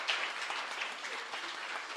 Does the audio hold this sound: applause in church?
yes